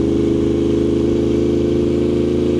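A 2024 Yamaha R1 sport motorcycle engine holds a steady, loud, close idle or light throttle, a constant throbbing drone running unbroken with no talk over it.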